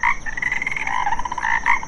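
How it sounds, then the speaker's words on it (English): Frogs croak in a pond, a dense, steady chorus of repeated throaty calls that stays close and loud throughout with no talk over it. "You can swim with the frogs."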